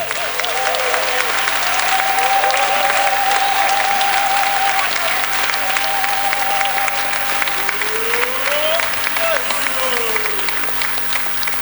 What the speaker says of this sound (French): pour qu'on vous acclame très, très, très, très fort